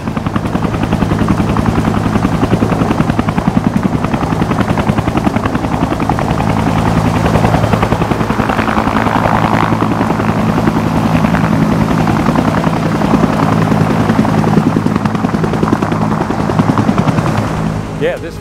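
A vintage 1968 Huey helicopter taking off, its rotor thumping loudly and steadily with a whining turbine, staying close and constant throughout.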